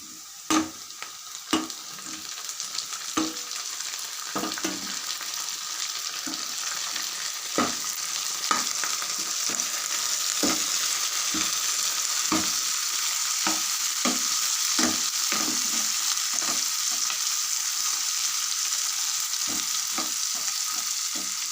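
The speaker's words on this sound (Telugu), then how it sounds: "కట్ చేసి పెట్టుకుని టమాటా ముక్కలు వేసి వేయించుకోవాలి" Tamarind and tomato pieces frying in a pan give a continuous hiss and sizzle, broken by regular scraping and clinking taps as a spoon stirs and turns the contents.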